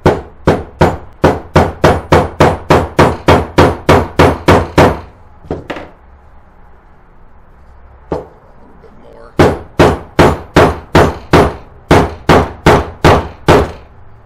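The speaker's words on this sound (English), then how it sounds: "now all we have to do is hammer it in" Rapid, evenly spaced hammer blows driving a metal insert into wood, a burst of about fifteen sharp strikes, a pause with a couple of isolated knocks, then another quick run of hits.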